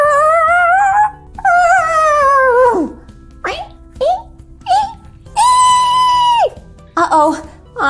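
A voice imitates a dog, drawn-out whimpering howls that rise and fall, loud and close, repeated several times with short yips between, played out with Playmobil pet store toys.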